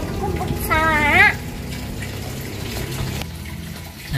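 Water runs steadily from a tap fitted to a PVC pipe, a continuous hiss and trickle, with a short voice-like sound near the start.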